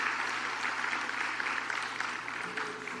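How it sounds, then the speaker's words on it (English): Audience at the Outsource2Jamaica 2025 opening ceremony applauding Prime Minister Holness, a soft, fairly distant steady patter of clapping that fades slightly toward the end. "Give Prime Minister Holness a round of applause."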